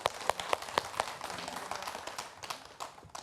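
A handful of audience members on a televised Islamic program give a scattered, light round of clapping, with distinct individual claps loosely spaced and fairly soft against low background noise.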